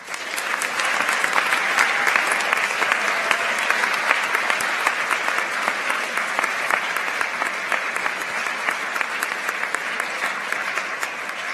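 Sustained applause from a large audience honoring math olympiad students at a school awards ceremony, a dense steady patter of many hands clapping for about eleven seconds with no speech over it.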